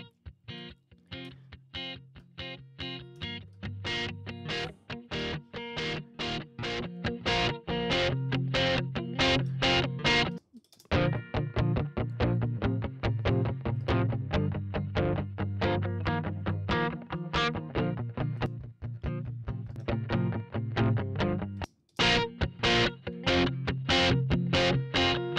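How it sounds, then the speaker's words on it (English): A music track runs through a Sansamp preamp plugin in Pro Tools, giving a gritty, driven distortion tone. Steady rhythmic hits continue throughout, with two brief dropouts and no talking. "push that up and start getting some really nice distortion"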